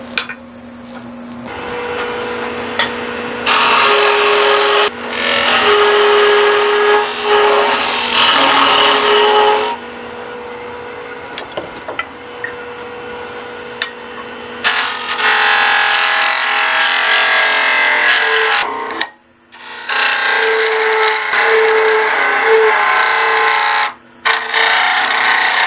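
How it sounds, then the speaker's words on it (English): A wood lathe turning a backscratcher handle while a tenoning cutter shapes a tenon, a loud, close, continuous scraping and rasping over the spinning hum, with several long cutting passes broken by brief pauses. "I'm going to use my tenoning cutter."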